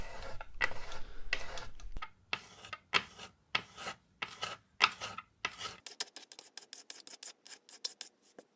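A sanding block is pushed back and forth over a lacquer finish to level the high spots: close, rhythmic rasping strokes, slower and heavier at first, then a quicker, lighter run of short scrubs, with no voices.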